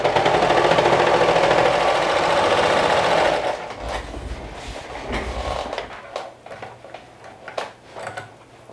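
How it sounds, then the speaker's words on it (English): A serger overlocks and seals the raw edge of bucket hat fabric, running steadily and loudly for several seconds before stopping, followed by faint handling clicks and rustles. "So just a small serger stitch to close that raw edge to make sure that it doesn't fray."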